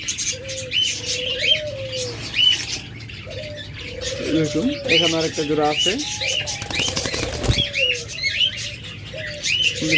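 Caged pet birds such as lovebirds and budgerigars chirp and tweet continuously at a bird sale, bright overlapping calls with some wing flutter, while someone talks over them.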